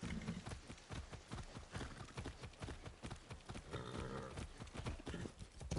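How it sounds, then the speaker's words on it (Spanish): Horses' hooves clip-clop in rapid, continuous rhythm in the video game Far Cry 6, several animals trotting together at moderate volume, with no voices over them. "Donde los caballos"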